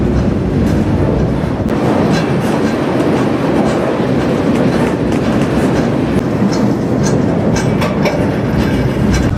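Loud, continuous rumble of a moving freight train heard from on board, with rhythmic clickety-clack of wheels on rails and metallic rattling throughout.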